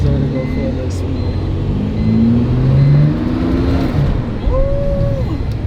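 A Dodge Hellcat Redeye fitted with a very loud aftermarket intake pulls away, its engine note droning steadily and rising in pitch, with a voice briefly heard over it.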